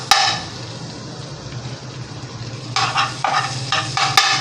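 Half a spoon of butter sizzles in a hot pan on low gas while being stirred, a steady soft fry with scraping strokes and a couple of sharp clinks, close by.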